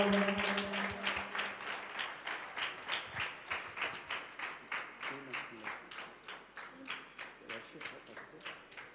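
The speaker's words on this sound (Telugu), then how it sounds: "అక్క వాళ్ళకి అన్న వాళ్ళకి బిగ్గరగా చప్పట్లు కొడదామా?" Children at a church Vacation Bible School session clap together in a steady, rhythmic beat, about two claps per second, loud and close, with a few voices underneath at the start.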